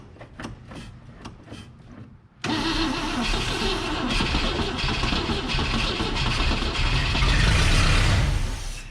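An abandoned 1960 Cadillac Sedan DeVille cranks with a few rhythmic turnovers, then abruptly fires and settles into a loud, rough, steady running rumble that grows a little louder near the end.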